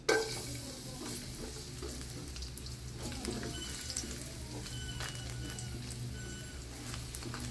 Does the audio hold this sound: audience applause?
no